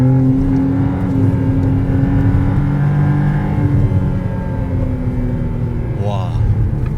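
A McLaren Artura V6 plug-in hybrid pulls hard with a steady, loud engine drone, rising pitch and a quick upshift near the end, while someone talks over it.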